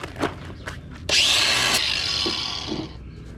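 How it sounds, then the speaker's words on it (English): A buffing wheel spins up abruptly during car trailer repair work and runs as a loud, steady whir for about two seconds before winding down, preceded by a few faint knocks. "let's do some buffing."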